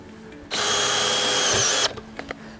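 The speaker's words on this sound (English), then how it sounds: "We're going to use our cordless drill to screw the piles." A cordless drill drives a screw into a ground anchor pile in one loud, steady whirring burst of over a second that stops abruptly, followed by a few faint knocks.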